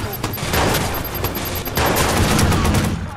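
Sustained bursts of light machine gun fire in Watch Dogs, loud, rapid and close, with a brief pause in the middle before the shooting resumes.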